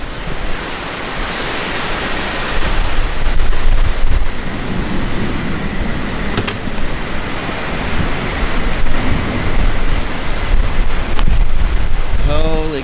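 Strong wind roars outdoors during a tornado storm in Oklahoma, a loud, continuous broadband rush with surging gusts and microphone buffeting for the whole stretch, no voices over it.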